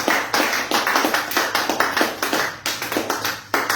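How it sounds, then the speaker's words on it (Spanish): Loud, close rhythmic clapping from a church congregation, hands striking together in a steady, fast, even beat that continues throughout with no voices heard. "Entonces brinden un fuerte aplauso al Señor."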